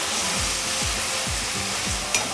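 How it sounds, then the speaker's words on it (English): Ginger garlic paste sautéing in a pan: a steady broadband sizzle with a few soft stirring scrapes at regular intervals, close and fairly loud, no voices. "You add about 2 teaspoons of ginger garlic paste and saute till the smell comes up."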